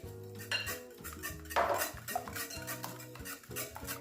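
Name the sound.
stirring and mixing dough ingredients in a bowl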